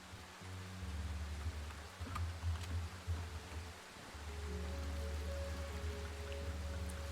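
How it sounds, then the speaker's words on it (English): In the horror game Darkwood, steady rain hisses and patters in a dense wash, joined by low droning tones that drop out briefly partway through and return. "The rain's a little loud."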